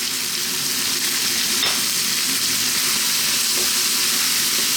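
Heaped spoonfuls of chili, coriander and turmeric powders sizzle steadily in a hot pan while being stirred, a continuous close frying hiss with faint scraping movements and no voices.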